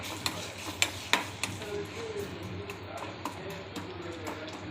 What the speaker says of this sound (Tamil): வெல்லம் போட்டு நல்லா வதக்கிடணும்